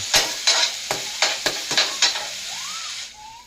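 Chicken liver and gizzard adobo with ginger stirred in a pan, a spoon scraping in a steady rhythm of about eight strokes over a continuous frying sizzle, close and fairly loud, with no talking.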